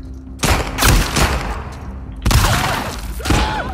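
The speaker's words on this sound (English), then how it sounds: "I'm holding out my shotgun." Shotgun blasts in The Last of Us Part II: a few loud, broad booms in close succession with short gaps between them, followed by more shots and clattering, with no talk over them.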